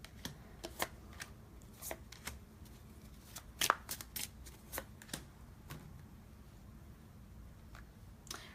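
Someone shuffles an oracle card deck close by, with a run of soft, crisp riffles and taps at uneven intervals against a quiet room, and no one talks.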